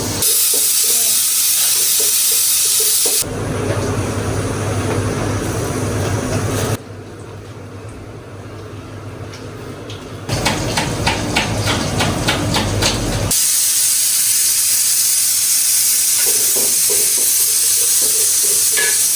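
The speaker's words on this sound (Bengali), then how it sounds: "পোলাও রান্না হচ্ছে এই যে হাড়ি অলরেডি বসে গেছে" A pot of pulao cooking on a home stove lets off steady, loud steam hissing that changes in strength in distinct stretches, with no talking.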